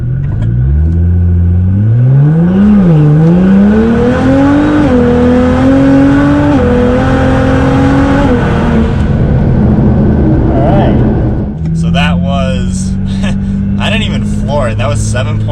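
Nissan R35 GT-R in race mode on a warm-up drag run, revving hard through several rising gear pulls with distinct shifts, loud and close, then settling as voices talk near the end.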